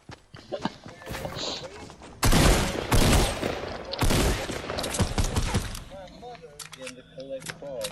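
An airsoft gun fires in rapid bursts of sharp cracks and clatter, loud and close, with voices talking between the volleys.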